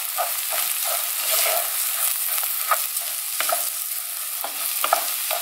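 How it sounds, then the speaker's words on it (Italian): Arborio-style rice toasting in a pan with radicchio for a risket, a steady close sizzle with repeated scraping stirs of a spoon against the pan, no voices. "Adesso possiamo andare ad aggiungere il riso. Lasceremo tostare."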